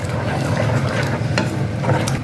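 Water pours steadily into a pot for sweet corn soup, a continuous close splashing and gurgling with a faint bubbling underneath.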